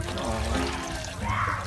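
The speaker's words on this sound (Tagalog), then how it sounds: "Napay tubig na ingog." Running or pouring water sounds steadily throughout, a continuous wash of liquid noise at moderate level with a brief brighter swell near the end, no talking over it.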